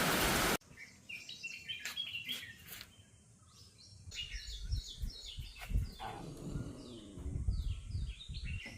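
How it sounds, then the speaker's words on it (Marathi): Steady rain falls through a summer evening storm on a farm, a continuous hiss with scattered drips and birds chirping over it; no thunder stands out, and no one speaks. "आणि मस्त पाऊस पडतो आहे"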